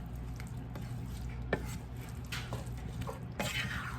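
Beef and broccoli stir-fry with bamboo shoots and baby corn being stirred in a pan, with soft scraping and clinks from the utensil over a steady low sizzle and hum.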